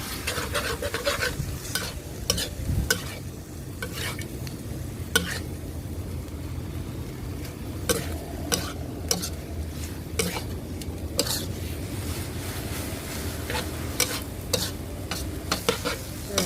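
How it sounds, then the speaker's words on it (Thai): Glass noodles with cha-om and light soy sauce are stir-fried in a pan under a soft steady sizzle, punctuated by sharp repeated clacks and scrapes of a utensil against the pan at an irregular pace. "แล้วก็ผัดทุกอย่างให้เข้ากันดีนะคะ"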